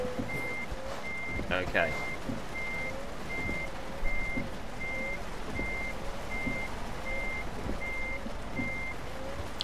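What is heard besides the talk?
reversing beep of a truck in Euro Truck Simulator 2 video game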